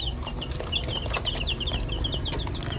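Three-week-old free-range village chicks peep steadily in short high chirps, close and fairly loud over a low rumbling background, with no one speaking.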